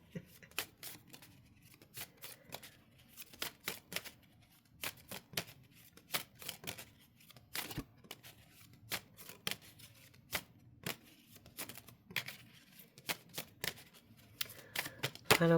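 Tarot cards are shuffled by hand in quiet, irregular bursts of crisp riffling and tapping clicks, soft and close, repeating steadily.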